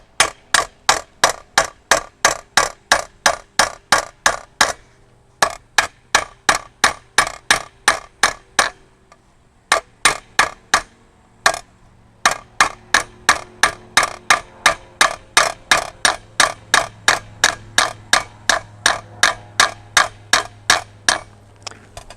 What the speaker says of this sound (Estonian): Ja ma üritan selle haamriga natukene niimoodi ettepoole seda tera venitada